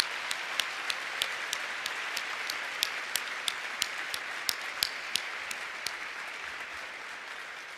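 Applause for graduating social work students at a university winter commencement ceremony, a steady wash of clapping from a large crowd with a few sharper individual claps standing out, sustained across the whole stretch.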